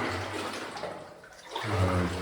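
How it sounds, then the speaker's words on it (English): Water runs and trickles inside an old abandoned mine at a ghost town, a soft, steady flow that dips briefly midway and then swells again nearby. "Oh yeah, there's water."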